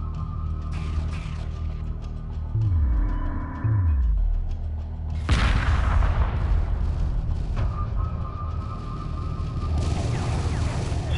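Space battle in the strategy game Homeworld Remastered: deep cannon booms and descending laser-like sweeps, followed by a heavy blast that rolls into sustained weapons fire and rumbling, all fairly loud and close.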